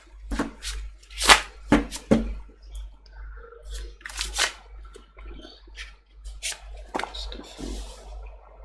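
Tarot cards are shuffled by hand at close range, producing irregular riffles, slaps and soft papery bursts separated by short quiet gaps.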